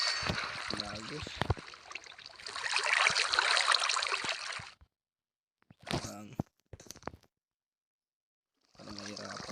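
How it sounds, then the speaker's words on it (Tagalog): Flowing water in a Minecraft cave gives a rushing, noisy wash for a couple of seconds, set among bursts of speech and game sounds, with gaps of silence between. "Daming tubig dyan"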